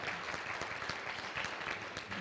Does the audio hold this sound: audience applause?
yes